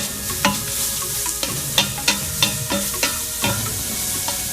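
Shiitake mushrooms and ginger sizzle loudly in hot oil for a Chinese hot and sour soup, with a regular series of sharp scraping knocks as a utensil stirs them around the pan.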